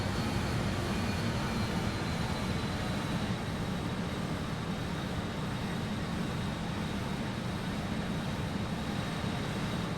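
Twin-jet BAe-146 engines at reduced throttle in a flight simulator game, a constant broad roaring hum with no breaks, even and fairly loud from start to finish.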